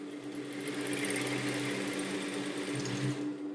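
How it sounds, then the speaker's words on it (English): A sewing machine stitches two layers of fabric together with a half-centimetre seam allowance, a steady continuous hum and rapid needle chatter running close and even throughout. "Sew the both fabrics with 1/2 cm seam allowance."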